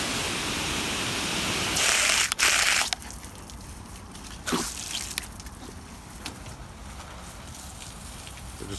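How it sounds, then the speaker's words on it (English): A garden hose's long-range sprayer waters bamboo beside a hot tub, spraying onto rocks and ground as a continuous hiss. A louder blast of spray rises briefly, then it settles into lighter patter and drips. "you're just gonna have to use the long range sprayer"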